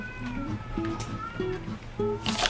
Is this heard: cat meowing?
yes